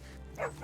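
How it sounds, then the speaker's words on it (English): A dog gives a short, quick bark or yip over a low background hum in a film scene. "That's my dog, Buster"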